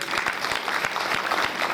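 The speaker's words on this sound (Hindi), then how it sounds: "जोरदार ताली बजाओ के लिए।" A large audience at a Hindu religious discourse applauds loudly, a dense, continuous wash of many hands clapping, close and steady throughout.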